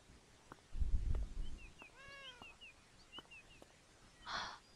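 A cat meows in the video game Beyond Eyes, a short wavering cry heard once and fairly faint amid a quiet outdoor scene with bird chirps, a soft rustle and a few light ticks.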